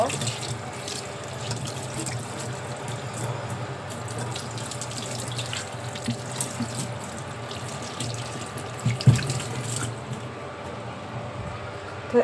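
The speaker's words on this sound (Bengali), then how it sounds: "তো এটা ভালো করে পানি দিয়ে ধুয়ে নিব" Aerobela fruit is rinsed under a running kitchen tap, a steady splashing stream lasting throughout with small bumps and a sharper knock near the end.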